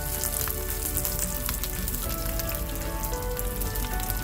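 Chopped curry leaves frying in hot oil for an onion rava dosa, a steady close sizzle with crackling pops scattered throughout.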